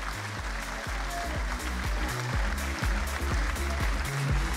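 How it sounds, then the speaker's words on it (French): Steady applause from a crowd, a dense patter of clapping that continues evenly without a break, moderately distant. "Et je vous demande de l'applaudir."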